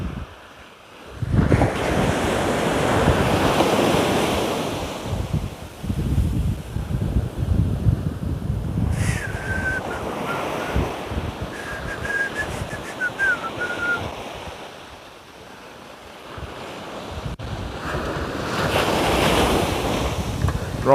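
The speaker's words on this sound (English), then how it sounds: "This is about the only stretch of beach where we've got waves forming and that." Ocean waves breaking and washing on an Australian surf-fishing beach at dawn, a few swelling surges and retreats with wind buffeting the microphone, a faint brief whistle-like tone in the middle.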